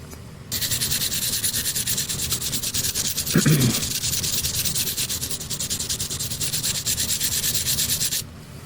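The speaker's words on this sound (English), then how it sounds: "I'm really trying to scrape this thing down clean." Steady, close scraping as a blade strips a wrap off a 1/64 scale NASCAR diecast model, a continuous rasping rub for about eight seconds with a brief heavier scrape midway.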